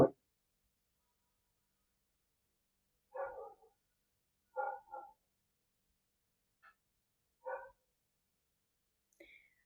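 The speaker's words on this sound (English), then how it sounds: "Suddenly, the dogs have started barking." Dogs barking somewhere nearby indoors or outside: a handful of short, separate barks spaced a second or two apart, fairly faint against an otherwise quiet background.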